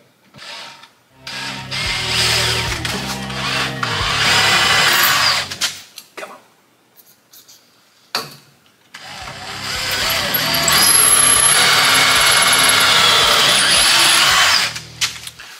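A power drill bores out a broken rusty bolt in two long close bursts of whining, grinding drilling separated by short pauses, with a few brief starts and stops at the beginning.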